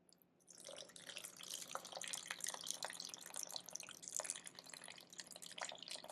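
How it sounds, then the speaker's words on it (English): A steady stream of water trickling and splashing into sourdough starter in a container, close and soft, with small drips and bubbling throughout and no voices. "And now we'll add in our water."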